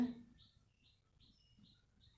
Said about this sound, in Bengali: রাতে হঠাৎ করে বাসার ভিতরে পাখি একটা ঢুকে গেছে